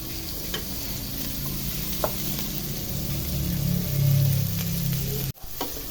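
Garlic and onion sizzle and fry in a pot as the base for beef bulalo, a steady close crackling hiss with occasional stirring scrapes and a brief sharp knock near the end; no one talks.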